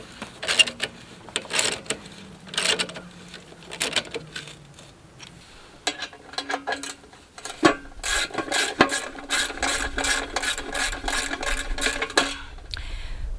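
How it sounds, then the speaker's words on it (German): A car jack is cranked to raise a Hymer S700 motorhome with a flat tyre. Uneven bursts of mechanical ratcheting early on give way to a fast, steady run of close clicking strokes near the end. "Um das Reserverad aufzuziehen und die letzten 2 cm hochzubocken, müssen wir unseren Wagenheber dazu holen."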